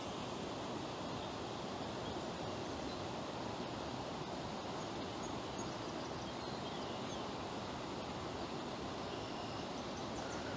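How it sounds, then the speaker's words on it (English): A waterfall on a small creek beside a canal towpath trail pours in a steady, dense rush of broadband water noise, continuous and fairly close, with no voices over it. "there's a waterfall right there."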